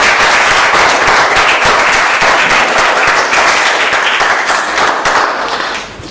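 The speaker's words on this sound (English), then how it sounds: "Give them a round of applause" Loud, close audience applause erupts at a grade 5 school debate, a dense crackle of many hands clapping hard and continuously, fading slightly near the end.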